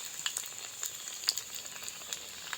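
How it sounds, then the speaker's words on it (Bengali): Suji (semolina) sweets deep frying in hot oil give a soft, steady sizzle with scattered crackles and small pops, near but fairly quiet, with no talking. "এরকম উল্টাপাল্টা করে ভালো করে ভেজে নিতে হবে দুপাশেই"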